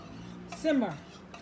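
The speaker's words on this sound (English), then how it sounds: "Stir that up." A spoon scrapes once through a pot of hot and mild Italian sausage, a short metallic stir with a brief clink, close and fairly quiet.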